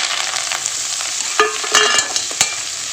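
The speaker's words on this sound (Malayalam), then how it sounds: "മുരിങ്ങയില ഇട്ട് കൊടുത്തിട്ട് മുരിങ്ങയില നന്നായിട്ട് വഴറ്റി കൊടുക്കുക" Moringa leaves sautéed in a pan with onion and turmeric make a crackling sizzle, broken by several sharp stirring scrapes and clinks close by.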